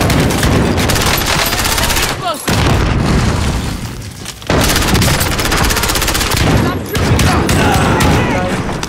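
Gunfire in the video game Warzone: loud, dense bursts of automatic fire and booming shots rattle almost nonstop, pausing briefly twice, with voices talking over the shooting.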